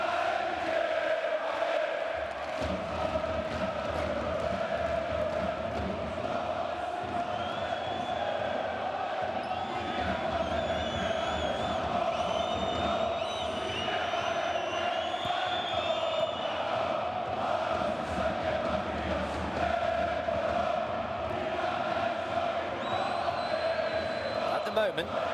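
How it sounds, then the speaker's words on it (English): A packed basketball arena with AEK fans roaring during a Champions League game against Hapoel Jerusalem, a dense, constant wall of crowd noise with chanting and whistles, while a commentator talks over it throughout. "crowd noise doesn't seem to be putting off Hapoel Jerusalem"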